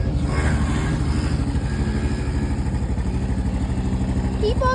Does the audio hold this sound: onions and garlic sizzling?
no